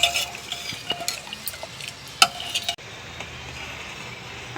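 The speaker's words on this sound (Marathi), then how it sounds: "एक पाच दहा मिनिट आपण खीर उकळून घेऊ" A pot of rice and khoa kheer is stirred as it boils, giving scattered scrapes and clicks of a spoon against the pot over a soft bubbling bed.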